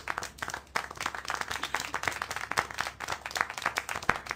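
A dense patter of clapping hands forms steady applause in the video game Syberia: The World Before, fairly quiet and continuous, with no voices.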